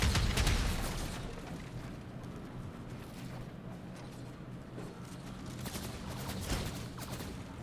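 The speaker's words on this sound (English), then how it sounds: "I really like the use of the cluster grenades in order to go ahead and take out any sort of structure." In Fortnite, cluster grenades explode against structures in a rapid series of loud, crackling bursts and rumbling booms that roll on for several seconds, with a fresh volley of blasts near the end.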